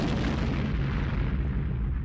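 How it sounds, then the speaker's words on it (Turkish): Explosion captured on a security camera in Tel Abyad, Syria: a loud, dense, sustained roar of blast noise filling the whole clip, with a deep rumble that slowly fades at the top end. "3 sivilin öldüğü, 15 sivilin yaralandığı patlamanın güvenlik kamerası kaydı ortaya çıktı."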